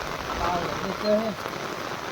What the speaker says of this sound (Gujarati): છે વરસાદ ચાલુ છે